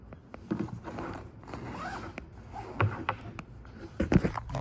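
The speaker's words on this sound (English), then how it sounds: "Can I also zip up one side?" Zipper drawn along one side of a Corpsman-style field medical bag, a series of short raspy zipping strokes close by with some handling rustle, no voices.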